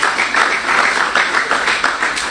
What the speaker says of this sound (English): Round of applause for our host.